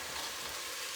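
Chicken breast strips sautéing gently in a pan, a soft, steady sizzle with fine crackle running evenly throughout, close and quiet with no talk.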